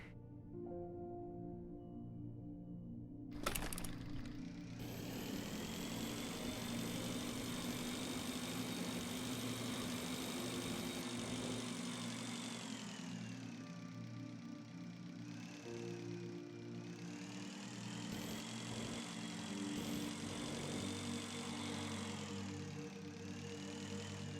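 A motorbike engine from the video game Breathedge runs steadily, a loud continuous droning hum. A sharp click comes near the start and the pitch shifts gently over time.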